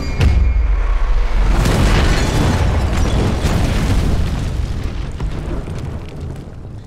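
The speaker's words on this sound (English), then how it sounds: "Holy moly, that was an explosion." A loud, deep explosion in Sniper Elite 4 booms at the start and rumbles on with crackling debris, slowly fading over several seconds with no talking.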